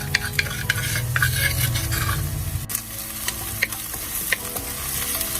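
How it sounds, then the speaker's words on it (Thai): Chili and garlic stir-fried in olive oil inside a motorhome kitchen, crackling and hissing loudly with dense scraping from a spatula, a low rumble dropping away partway through as the frying sizzle continues. "มันมะกอก ผัดพริกกับกระเทียมก่อนนะคะ"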